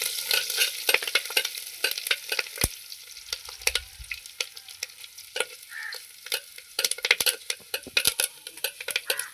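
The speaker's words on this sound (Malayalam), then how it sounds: "അതൊന്ന് നന്നായിട്ടൊന്ന് ഫ്രൈ ചെയ്തെടുക്കണം" Curry leaves sizzle steadily in hot oil while being fried for puli rasam, a loud, continuous crackling hiss broken by scattered sharp pops and the occasional scrape of stirring, with no voices.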